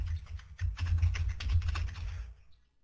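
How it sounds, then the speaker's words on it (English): Quick, close typing on a computer keyboard while entering a web address into a browser, a dense run of key clicks for a couple of seconds before trailing off into quiet. "we're going to type in"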